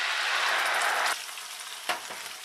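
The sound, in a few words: masala paste frying in a pan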